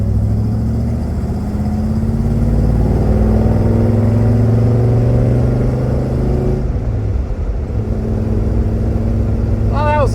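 A 1972 Chevrolet Chevelle engine pulls steadily in third gear with a freshly installed clutch, its loud mid-range drone holding an even pitch and rising slightly before easing off, heard from inside the car.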